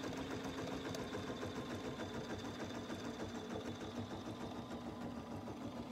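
A BERNINA embroidery machine stitching a design, giving a steady, rapid mechanical whirring and clatter of the needle that runs evenly and continuously at moderate loudness, with no talking.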